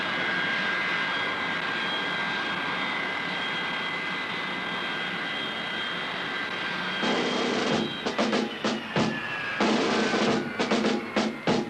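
An airliner arriving on a runway at an airport produces a loud, steady jet roar with a high whine, which then turns choppy and stuttering in its final seconds; no voices are heard.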